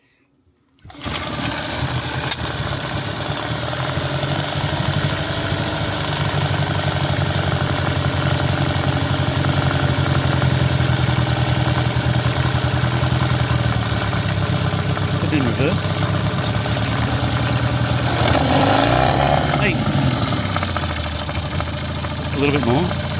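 An outboard motor starts up after a brief silence and keeps running, a loud, steady, close mechanical chatter with a surge of revving near the end, while voices talk faintly over it.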